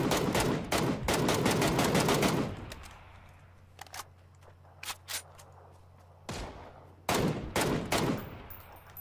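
Video game gunfire aimed at a vehicle's tires: a dense burst of rapid shots, then scattered single cracks in a quieter stretch, and finally another loud, close volley.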